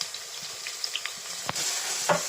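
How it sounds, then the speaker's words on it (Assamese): Chopped onions and bay leaves sizzle gently in hot oil in a home kitchen, a soft, steady frying hiss with a few faint clicks and a brief stir near the end, no voices. "এনেকৈ মই ফ্ৰাই কৰি লৈছোঁ পিঁয়াজ তেজপাতটা।"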